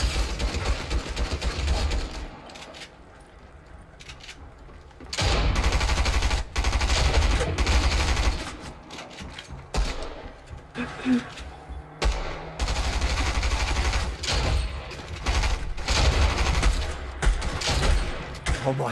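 Gunshots in Fortnite Battle Royale, loud bursts of rapid automatic fire in several long volleys with brief pauses between them, close and dominant throughout.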